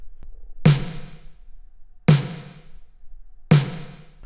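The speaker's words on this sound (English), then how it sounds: "that awesome, big synthwave snare sound" Three big, booming 80s synthwave snare hits with long, bright reverb tails, evenly spaced about a second and a half apart, each ringing out alone.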